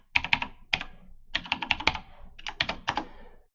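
Computer keyboard typing a command into a Linux terminal during an Oracle EBS R12.2.8 VirtualBox setup, heard as three quick bursts of close, crisp keystrokes separated by short pauses, with no talking.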